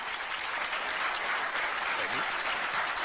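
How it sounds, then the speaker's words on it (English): Studio audience at a live comedy talk show breaking into steady, sustained applause, dense and even throughout with faint voices mixed in. "Oh, you're clapping for me?"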